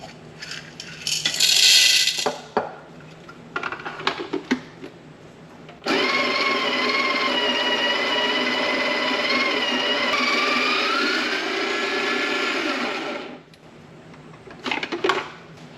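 A Breville Smart Grinder Pro grinds coffee beans in a loud, steady whirring burr grind lasting about eight seconds, bracketed by short clicks and handling clatter from the machine nearby.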